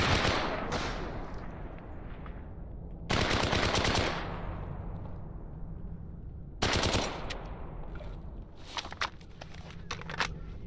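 Automatic gunfire empties a full magazine in the video game STALKER, coming as loud rapid bursts separated by quieter stretches with faint movement and scattered shots.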